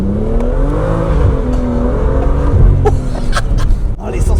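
A BMW M2 engine revs hard as the car accelerates quickly, its rising engine note loud and close for several seconds before easing off, with brief exclamations from people inside the car.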